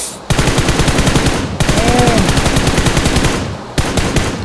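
Rapid automatic gunfire in PUBG on the snowy Vikendi map, loud, close, evenly spaced shots in long bursts with brief pauses between them, no voices over it.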